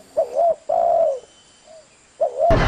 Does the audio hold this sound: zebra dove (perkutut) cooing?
yes